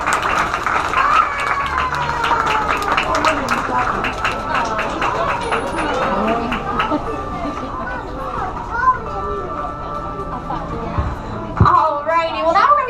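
Crowd applause and cheering at an aquarium marine park show for a veterinarian, clapping from the audience with children's voices and chatter mixed in, fairly loud and lasting several seconds.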